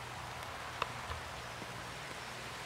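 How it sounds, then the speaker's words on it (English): Steady rain falls outdoors in open countryside, a soft continuous hiss with a few slightly louder drips standing out, fairly quiet and with no voices. "That rain is getting a lot heavier though."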